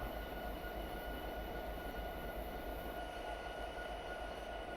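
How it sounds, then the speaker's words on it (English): A long coal train rumbles past at a railroad crossing in Train Simulator Classic: a faint, steady low rolling drone of wagons with a faint high whine, continuous and unchanging throughout. "See, this is one of those sort of trains that you do not want to get stuck at the"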